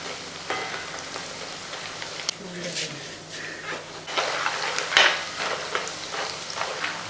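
Snack batter deep-frying in hot oil, a bubbling hiss with intermittent clinks and stirring scrapes of a utensil against the pan, close by, with a voice talking over it.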